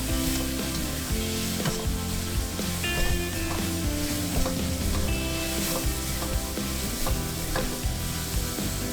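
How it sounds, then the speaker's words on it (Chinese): Diced chicken is stir-fried over high heat in a wok with oyster sauce and chicken bouillon, giving a loud, dense sizzle with rapid rhythmic scraping and clanking tossing strokes, no speech. "1勺鸡精， 大火翻炒30秒入味儿。"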